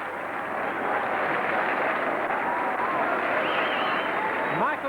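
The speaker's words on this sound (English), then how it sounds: "takes the applause of the home fans" Steady crowd applause and cheering from home fans fill a football stadium after a goal, a continuous roar of clapping from many spectators throughout.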